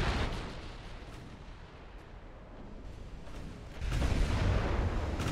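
A naval gunfire hit rumbles in the Ultimate Admiral: Dreadnoughts warship game, a sustained broadband roar that swells louder near the end, with no talk.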